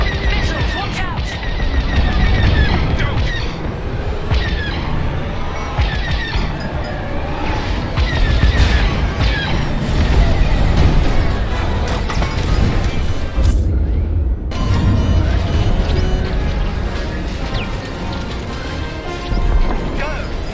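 Missiles burst and blasters fire during a Star Wars Squadrons space dogfight, with dense continuous booms, crashes and rapid shots staying loud throughout while voices speak over the action.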